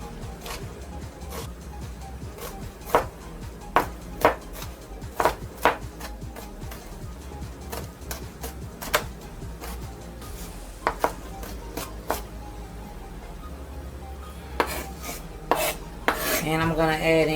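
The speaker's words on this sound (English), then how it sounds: "I'm going to cut down some bell pepper as well as onion" Bell pepper and onion being chopped on a cutting board, irregular crisp knife strikes with scraping and rasping between them, close and fairly loud with no talking.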